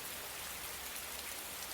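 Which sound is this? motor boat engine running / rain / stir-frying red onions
rain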